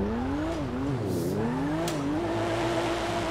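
Car drifting in GTA, played on a steering wheel, with a sustained engine whine that rises and falls as the car slides, alongside continuous tire squeal and brief bursts of skid noise, loud and close throughout.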